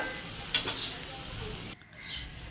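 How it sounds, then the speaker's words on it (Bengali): Potatoes with spices being slowly sautéed in a pan: a steady close sizzle with a sharp scrape or clink early on and a brief dip partway through, no voices. "যাই হোক, আস্তে আস্তে করে আমি কষাচ্ছি।"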